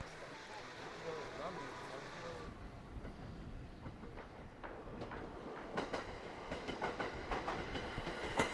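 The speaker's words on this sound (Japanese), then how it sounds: "列車は柳場駅を過ぎ、雪が積もる中綱湖の前を走ります。" A train rumbles steadily along snowy rails past a lake on the Japanese Oito Line, with rhythmic clicking of wheels over track joints, a continuous rolling noise throughout.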